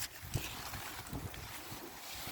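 Wind buffeting a microphone outdoors during heavy rain while a Kampa windbreak is set up, a steady loud rushing gust noise with faint thumps, no talking.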